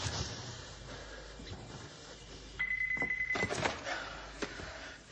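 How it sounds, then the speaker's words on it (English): A telephone rings once with a short electronic tone amid a busy indoor scene full of clattering thumps and background noise. "Just answer the fucking phone."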